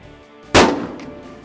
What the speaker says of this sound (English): Eddie's having a hard time shooting it